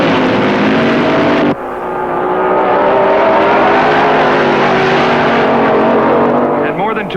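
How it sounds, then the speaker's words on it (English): Nitromethane-fuelled top dragster from the 1966 drag racing season, a loud sustained engine roar that cuts abruptly then swells back, constant and close throughout. "The big dragsters are loaded with high-energy nitromethane fuel."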